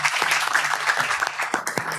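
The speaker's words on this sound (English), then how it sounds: "let's give a round of applause" An audience at a panel discussion on Dhaka's elections and geopolitics claps, a brief steady round of applause with distinct hand claps audible in the mix.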